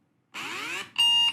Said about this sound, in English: this is my alarm ringtone